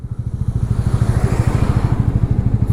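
A motorcycle engine chugs steadily and close in a jammed mountain valley road in Sikkim, between Gangtok and Mangan, its low rhythmic pulsing thump continuing without a break, with no voices.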